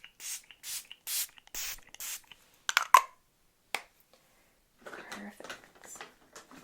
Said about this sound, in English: we're just going to finish up with a setting spray.